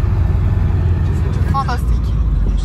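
Cars and buses overtake on both sides on a Pakistan road, a loud, steady low engine and road rumble close by, with a brief voice-like tone partway through.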